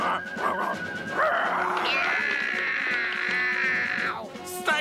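Cartoon dog in a Smurfs episode barking and whining, a few sharp yips then a long rising, wavering whimper, loud and close, with no talk.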